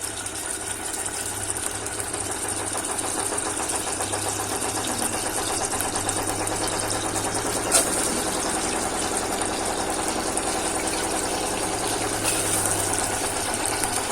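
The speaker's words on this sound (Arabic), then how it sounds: "كل ما اكون شغاله بصور تلاقوا الغساله شغاله بتعصر" A washing machine on its spin cycle hums and whirs steadily at moderate volume, a continuous mechanical drone heard from a home kitchen.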